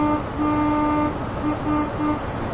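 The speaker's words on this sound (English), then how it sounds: "let's give them a honk on the horn" An HST train horn in Train Sim World 3 sounds in several steady two-tone blasts, a long one followed by shorter toots, loud over a constant engine and rail rumble.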